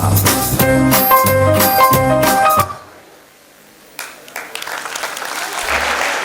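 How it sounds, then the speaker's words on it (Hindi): Music plays loudly at a school annual function, cuts off, and after a brief lull the audience bursts into applause for a children's performance, the clapping building and continuing to the end. "इतनी सुंदर प्रस्तुति के लिए जोरदार तालियां तो बजनी चाहिए."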